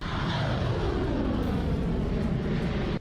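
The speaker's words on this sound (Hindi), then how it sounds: "वहां का आसमान लड़ाकू विमानों की गरज से गूंज उठा।" Fighter jets roar overhead during an Iranian military exercise, a loud, dense, continuous roar sustained for about three seconds with no voices.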